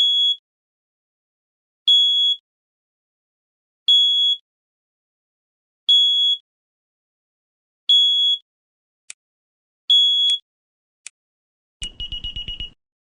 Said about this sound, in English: Crap, the alarm's going off.